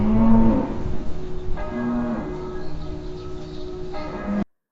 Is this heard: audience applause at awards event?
no